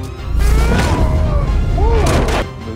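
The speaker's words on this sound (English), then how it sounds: "Gunshot!" Gunshot sound effect from the One Piece live action series, a loud boomy blast with rumbling low end and ringing tones, heard over dense background score and noise.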